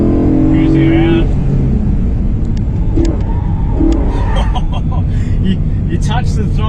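A car fitted with a Pedal Commander PC10-BT throttle controller cruises in third gear, its engine and road noise a loud, steady drone throughout, with a voice speaking over it.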